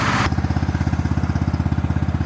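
A Predator DC generator engine runs at low RPM with exhaust piped out through a wall, a loud, close, rapid, even chugging pulse that starts abruptly after a short burst of noise.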